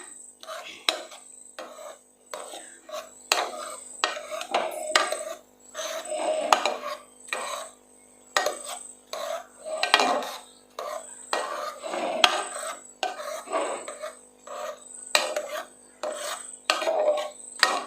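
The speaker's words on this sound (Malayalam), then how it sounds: "ഇനി നമുക്കിത് നന്നായിട്ടൊന്ന് ഉടച്ചു കൊടുക്കണം." Cooked, dried-down green gram lentils being mashed for payasam: repeated rasping, rubbing scrapes of a utensil against the pot in uneven bursts with short pauses, close and clear with no talk.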